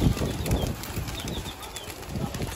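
Several pigeons flap their wings in flight nearby, with a fluttering, rustling whir of wingbeats over outdoor background noise.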